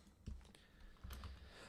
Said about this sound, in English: keep typing Victoria Newman